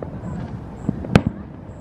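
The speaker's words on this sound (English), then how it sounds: "Never caught fireworks this good on camera." Fireworks bursting outdoors: a couple of soft thuds and one sharper crack stand out in the middle, over a low, steady background rumble.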